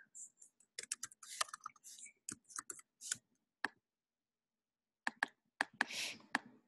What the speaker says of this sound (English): And let me type this in here.